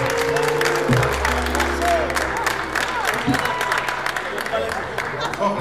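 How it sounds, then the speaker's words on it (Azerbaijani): A spring concert audience claps and cheers steadily and fairly loudly, with music and a voice carrying over the applause. "gözəl alqışlarla bu gecəni"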